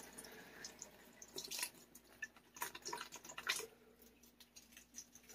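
Water draining from a house's main water line after the shutoff during a plumbing repair, a faint, steady trickle with scattered drips and splashes continuing throughout, no voices.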